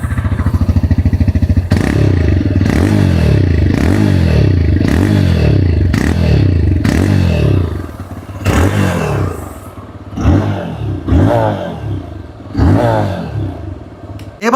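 A 2026 TVS Raider 125 motorcycle, the top variant with double disc ABS, runs loud and close with a steady exhaust note broken by repeated rev surges and clattery pulses that ease and then climb again.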